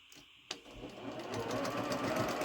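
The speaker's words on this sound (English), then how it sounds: "I'm going to sew slowly" Sewing machine slowly stitching quilt fabric over pins, starting with a click and then settling into a steady, close mechanical whir that builds in level and runs without talking.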